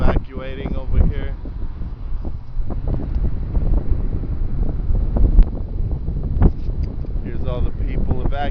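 Strong wind blusters at a wildfire that is forcing evacuations, a loud continuous roar buffeting the microphone while a person talks over it.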